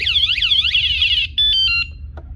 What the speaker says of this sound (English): So it'll do a buzz like that if something goes near it, or something moves your kayak.